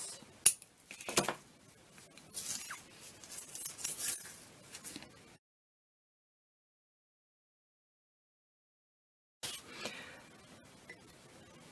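Scissors cut through craft material for a maritime upcycling decoration, making a run of crisp snips and rustles close by with a short pause partway through, then more cutting. No voices.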